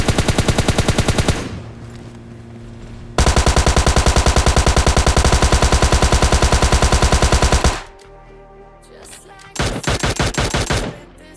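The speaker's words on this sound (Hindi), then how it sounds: "सामने से ही गन साउंड आ रहे थे" Loud, rapid bursts of automatic gunfire, three long volleys separated by brief pauses, with no talking.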